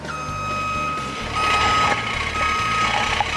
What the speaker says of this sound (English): Check the beeper is working.